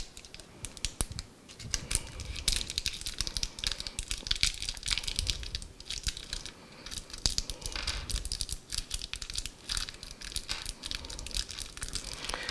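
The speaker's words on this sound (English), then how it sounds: "I'm just taking the screws out that are in the little plastic bag with the power supply." Small screws being shaken and pulled from a little plastic bag that came with a PC power supply: crinkly plastic rustling and faint clicks, steady and close, continuing throughout.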